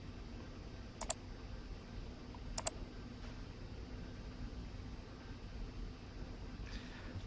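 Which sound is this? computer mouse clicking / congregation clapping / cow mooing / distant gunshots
computer mouse clicking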